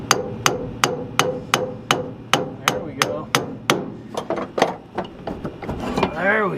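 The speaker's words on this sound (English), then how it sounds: "Maybe if I just tap on that with a hammer and separate a little." A hammer taps on the steering linkage of a 1966 Ford F250 with two-wheel drive: about a dozen sharp metallic strikes at a steady, roughly half-second rhythm, close and loud, then lighter, quicker knocks and a brief creak.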